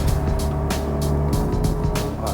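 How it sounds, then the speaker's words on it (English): A Porsche Panamera S accelerates at full throttle at Berjaya Hills, its engine roaring loud and close, with repeated rising surges as it climbs through the gears. "Let's just floor this and see how this baby goes"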